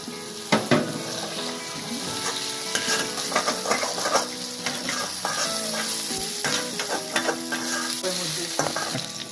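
Capsicum and bell peppers stir-fry in a hot pan for restaurant-style crispy chilli baby corn, a dense, close sizzle broken by frequent sharp scraping and clattering strokes of a spatula against the pan, with no talking.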